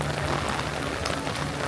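Rain falls steadily at EPCOT in Walt Disney World, a loud, dense patter of drops on nearby surfaces with no break.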